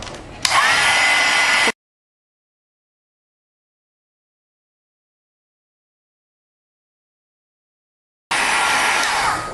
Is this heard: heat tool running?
yes